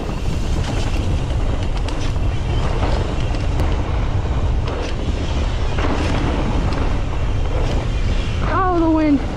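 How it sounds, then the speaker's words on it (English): Steady broadband wind rushing past a microphone while riding at Tamarack Resort, a constant roar from start to finish that ends in a brief rising whistle-like tone. "Oh, the wind."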